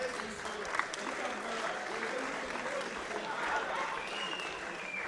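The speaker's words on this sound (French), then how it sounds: "On peut les applaudir très fort." At a Swiss Eurobot robotics contest, the audience applauds after a robot match, a faint and distant, steady patter of many hands in a large hall.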